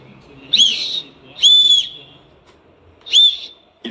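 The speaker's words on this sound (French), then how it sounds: "Voici aussi un sifflet." A survival kit whistle is blown in three short, loud, shrill blasts separated by pauses, close up and alone.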